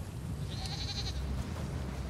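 A sheep in The Elder Scrolls Online gives a single wavering bleat about a second long, clear but moderate over a steady background of game ambience.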